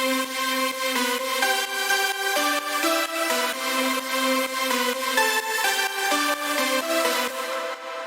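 Layered synth drop leads built in FL Studio play a bright, buzzy melodic line, stacked sawtooth-like voices stepping through notes at an even pace, loud and alone without drums or voices.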